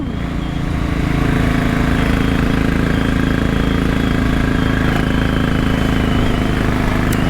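A Royal Enfield Bullet 500 motorcycle engine idles close by, a loud, steady, low thumping rumble that holds evenly from start to finish with no voices.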